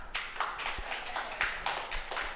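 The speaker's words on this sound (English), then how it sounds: "Let us give applause for all of us." Workshop participants applaud together over a video call, a steady patter of many hands clapping at moderate volume with no talk.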